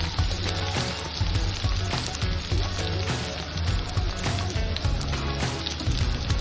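Mutton pieces frying in a pan give a dense, loud, continuous sizzle with crackling pops throughout, heard up close with no talking.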